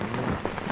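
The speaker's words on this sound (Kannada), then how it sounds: "ಶಂಕರಣ್ಣ ಬೆಳಗ್ಗೆಯಿಂದ ಮಳೆಯಲ್ಲಿ ನೆನ್ಕೊಂಡು ಹೆಂಗ್ ಕುಂತವ್ ನೋಡಿ." Steady rain falls outdoors as a constant broadband hiss with soft pattering drops throughout, no voices.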